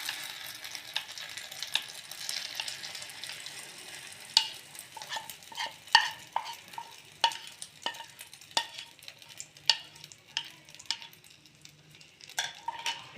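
A karandi omelette cooking in hot oil, with a soft continuous sizzle punctuated by sharp clicks and scrapes of a utensil against the pan, fairly quiet and close, with no talking.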